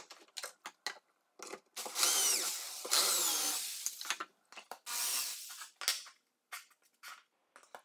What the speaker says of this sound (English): I could match and drill the holes in the corresponding vertical pieces